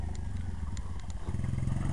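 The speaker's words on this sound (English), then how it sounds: "My little brother got a new quad." A new four-speed quad bike engine idles close by with a low, uneven rumble, and light clicks and clatter come through over it.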